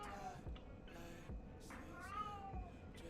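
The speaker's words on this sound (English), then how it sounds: "Cat, be quiet." A cat meows several times in close succession, insistent rising and falling cries heard close by indoors, some overlapping a low background murmur.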